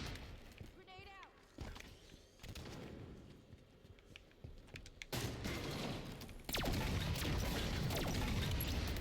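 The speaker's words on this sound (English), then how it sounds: "Grenade out." Explosions and gunfire in a Halo multiplayer match crash and boom through busy game noise, with a loud blast and sustained rumble near the end, while players talk over it.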